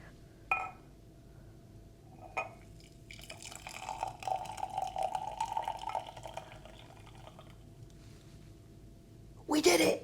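A foamy drink is poured for a few seconds with a soft, fizzing liquid rush. Faint clinks come before it, and a louder clatter follows at the end.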